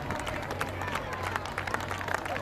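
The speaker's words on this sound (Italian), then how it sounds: "Accompagniamoli sino all'arrivo con un bel applauso" Steady clapping and crowd noise greet athletes finishing at a night athletics meeting of walk and middle-distance races, continuous and moderately distant, with a voice speaking over it.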